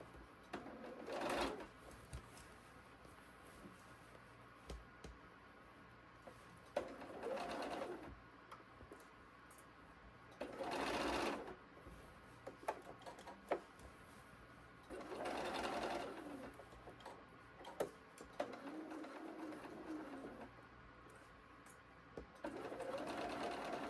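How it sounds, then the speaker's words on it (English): A sewing machine runs a straight stitch along all four edges of a boxed-bottom knitting bag, giving several separate bursts of steady mechanical whirring with quiet gaps between them. "I'm going to just sew along the edge on all 4 sides"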